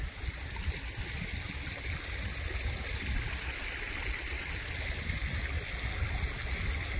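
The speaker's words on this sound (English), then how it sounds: "And they've been pumping now for a few days." Water pumped during a drought pours steadily into a near-empty farm dugout, a continuous loud rushing and splashing flow with no pauses.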